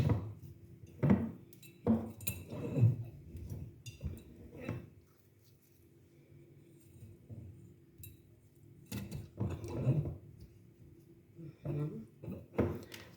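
Intermittent glassy clinks and knocks as watermelon pieces for pickling are set into glass jars, a few clustered bursts separated by quiet pauses, close by.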